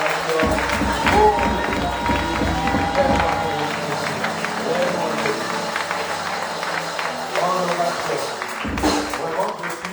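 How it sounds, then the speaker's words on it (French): At a church seminar, the congregation applauds and cheers the evangelist: dense clapping and crowd noise roll on steadily with a low rumble underneath, then briefly swell near the end, with voices throughout. "je voudrais également ici qu'on ovationne l'évangéliste qui est là, qui a marqué de son empreinte sur nos acclamations"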